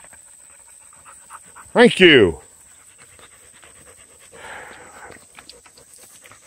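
Airedale terrier puppy panting nearby during an outdoor pack walk, a short breathy burst followed by softer rapid breaths, with brief human speech in the background.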